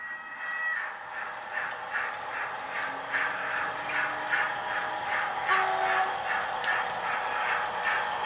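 An EFE Southern Booster 20002 model locomotive runs on a layout with sound fitted, giving a steady, rhythmic mechanical chuffing and hum, with brief whistle-like tones partway through.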